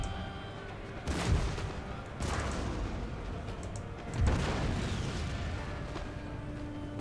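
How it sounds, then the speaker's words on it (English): Musket volleys and artillery in the video game Empire Total War, several heavy booming shots a second or two apart, each followed by a rumbling tail over a low battlefield din. "There's gunfire going on."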